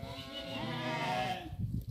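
Goats and sheep bleat at a livestock sale in Dois Riachos, Alagoas, Brazil, a loud, wavering cry close by that fades into crowd murmur.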